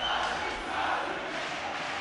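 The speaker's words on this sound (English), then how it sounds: "You can hear the Brazilians cheering these guys on." A Brazilian crowd at an IEM São Paulo esports match cheers on the team Pain with a steady, distant roar that fills the arena.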